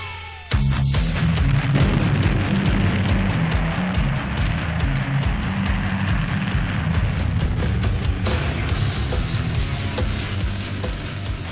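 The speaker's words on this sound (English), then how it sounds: "gas shoots out of the rocket nozzle and provides upward thrust for the rocket" A model sugar rocket burning potassium nitrate propellant roars continuously as thrust blasts from its nozzle. The sound is a loud, steady, harsh rush lasting about eleven seconds, with scattered sharp clicks and no talking.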